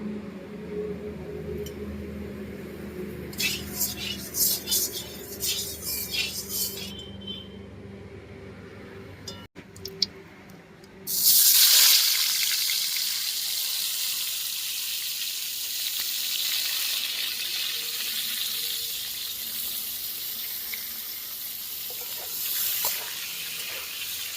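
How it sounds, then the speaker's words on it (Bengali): Pointed gourd pieces drop into hot oil in a pan, bursting into a loud, steady sizzle that carries on alone after some earlier clinks and handling sounds. "এবার পটলগুলোকে ভেজে নেব"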